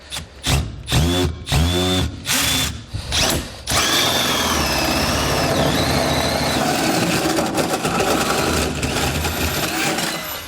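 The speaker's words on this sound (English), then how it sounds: "So let's just go ahead and drill our hole now." A power drill starts and stops in several short bursts, then runs continuously, grinding loudly into metal at close range while drilling a hole for a fifth-wheel underbed kit on a 2021 GMC Sierra.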